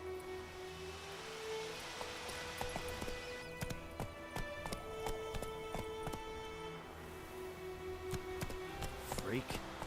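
Roach the horse galloping in the video game The Witcher 3, hooves clip-clopping in a quick, steady rhythm close by, with someone talking over the hoofbeats and game music underneath.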